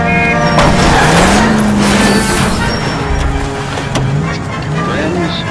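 Engines roar continuously through a police car chase in the L.A. Noire video game, with whining revs, a hint of tire skid and loud crash-like thumps as voices talk over the driving.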